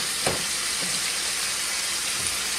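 Onions frying in a pan to caramelize give a steady, close hiss of sizzling, with a few brief soft knocks and stirring sounds over it.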